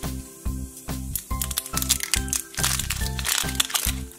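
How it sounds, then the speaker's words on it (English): Crinkly plastic packaging of an LOL Surprise Charm Fizz toy being unwrapped in repeated crackling rustles over a steady, loud backing of rhythmic music. "We have to unwrap a few times before we get to the tattoo and sticker."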